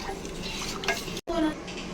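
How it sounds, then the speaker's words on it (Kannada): Thick, sticky malt porridge is stirred in a pot, producing close, continuous scraping with a soft bubbling sizzle and a brief break partway through. "ಸ್ವಲ್ಪ ಗಟ್ಟಿ ಆಗ್ತಾ ಇರುತ್ತೆ, ನೋಡಿಕೊಂಡು ತಿರುಗಿಸ್ತಾ ಇರಬೇಕು"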